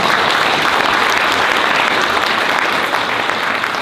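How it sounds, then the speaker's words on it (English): Steady, dense applause from an audience, loud and continuous throughout with no pauses or voices standing out. "Please give them a big round of applause."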